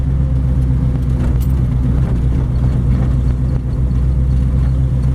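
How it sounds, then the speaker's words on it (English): A 1932 Ford five-window steel hot rod cruises slowly in first gear through an alley, its engine a steady, loud low rumble that holds even throughout with no voices. "I'm in first gear, which is a good little cruising gear on these babies."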